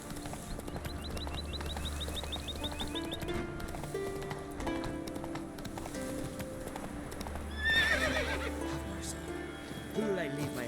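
Roach, a horse in The Witcher 3 video game, clip-clops along with steady hoofbeats and lets out a whinny, while someone speaks briefly over the game audio.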